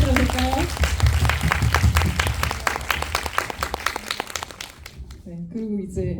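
Audience in a small indie film talk event bursting into steady applause, clapping dense and close for several seconds before fading out as a voice starts speaking.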